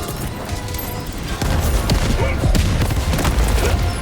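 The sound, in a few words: grenade explosion in the video game Helldivers 2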